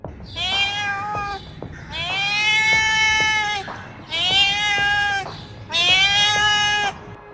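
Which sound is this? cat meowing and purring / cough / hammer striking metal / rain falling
cat meowing and purring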